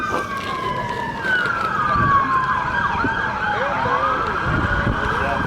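A loud emergency siren wails close by at the Hamvention ham radio convention, its pitch sweeping up and down continuously, with traffic rumble underneath.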